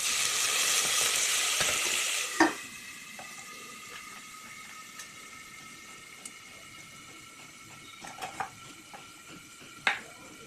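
Ginger garlic paste frying with onions in a pan for chicken biryani, a strong steady sizzle at first that settles into a quieter crackle, with a few sharp clinks of a spoon against the pan.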